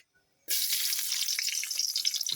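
Garlic hits hot coconut oil in a pan and bursts into a loud, bright sizzle after a moment of quiet, crackling steadily to the end.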